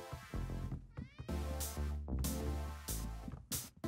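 A cat in the video game Travis Strikes Again: No More Heroes meows several times in a row. The drawn-out, tonal calls are loud and clear and follow one another closely.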